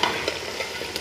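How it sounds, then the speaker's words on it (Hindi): Chicken meat frying in a pot for pulao and being stirred, a brief close sizzle with scraping stir strokes and no talk. "ये देखें, ये हमारा भून चुका है गोश्त।"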